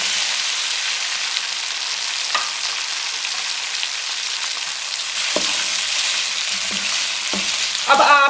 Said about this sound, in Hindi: कुकिंग ऑयल हमारा बहुत अच्छे तरीके से गर्म हो चुका है। अब इसमें हम भिंडी डाल देंगे।